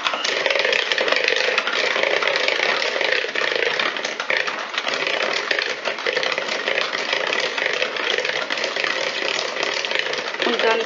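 Electric hand mixer beating biscuit dough with egg and sugar, a steady loud whirring drone that runs the whole time with slight rattling variations.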